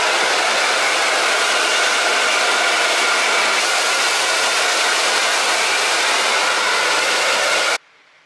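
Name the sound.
hairdryer blowing on wet hair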